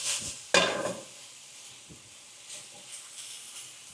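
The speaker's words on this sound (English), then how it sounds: "and then I'll give it a good stirring." Food simmers in a pan with a soft, steady sizzle, broken once by a sharp stirring scrape near the start, then a few faint clicks and shuffles, quiet and close with no talking.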